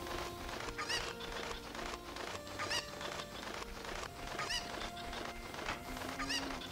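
Cuckoo chickens cluck and squawk in Zelda: Ocarina of Time, several repeated bird calls spaced at a steady rhythm over busy game background sound.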